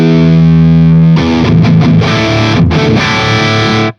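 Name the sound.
distorted guitar through Fryette Deliverance Synergy module, depth raised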